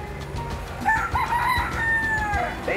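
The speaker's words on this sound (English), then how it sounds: "Look at them chickens right there." A rooster crows once in a drawn-out call in an outdoor setting in Tepic, Nayarit, Mexico, moderately distant under a steady background hiss.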